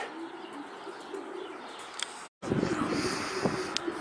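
Racing pigeons arriving at a loft at the end of a winter final race, with soft cooing and a few chirps over steady outdoor background noise, briefly cut by a gap of silence.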